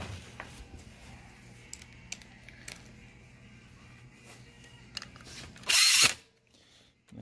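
A Makita power tool runs bolts on the bottom end of a Polaris Ranger 800, giving one short, loud burst of whirring after a quiet stretch of faint shop clatter.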